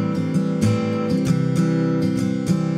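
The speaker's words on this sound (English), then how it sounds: "fade in a short delay with high feedback to create a swell to accentuate a moment in a song" Guitar fed through a delay pedal with a short delay and high feedback, faded in as a swell, gives a rhythmic, pulsing pattern of repeating notes with regular accents. The sound is moderately loud and there is no speech.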